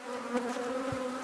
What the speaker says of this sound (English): there's a swarm starting to happen just here